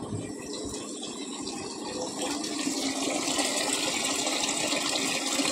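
Water runs steadily into a bucket being filled for mopping the floor, a continuous rushing pour that grows slightly fuller and louder as it goes, close by with no talking.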